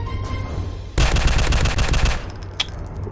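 A premium weapon in a video game fires a rapid burst of automatic gunfire lasting about a second, loud and close, then a single sharp report follows after a short pause.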